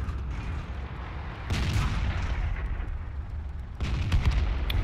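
Two deep, booming tank cannon shots in the World of Tanks video game, each a sudden loud blast over a constant low engine rumble, spaced a couple of seconds apart.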